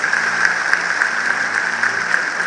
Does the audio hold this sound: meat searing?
no